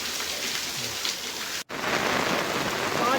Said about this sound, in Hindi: चतरा जिले में हो रही भारी बारिश